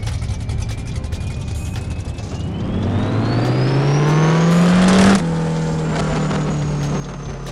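A drag race car run in the No Limit Drag Racing 2.0 video game, a synthetic engine drone climbing steadily in pitch, a sharp shift step near the end, then a sustained high whine fading slightly.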